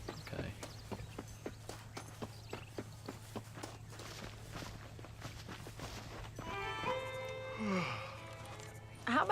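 Horse hooves clip-clopping in Red Dead Redemption, a steady run of evenly spaced hoofbeats at walking pace, clear and fairly near, giving way to a voice and a soft whinny near the end.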